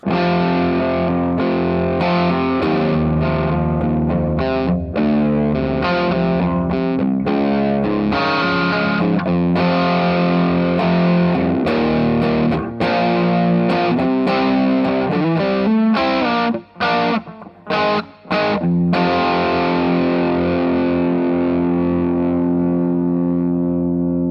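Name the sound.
electric guitar with drive pedal, rock tone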